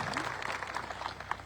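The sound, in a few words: audience applause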